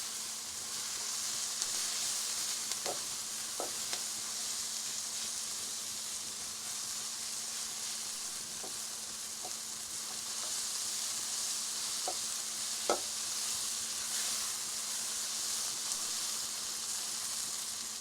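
Onion with dry spices fries in a pan for a vegetable korma, giving a quiet, even sizzle throughout, with occasional soft clicks and taps from stirring.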